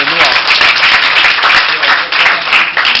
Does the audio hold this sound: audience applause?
yes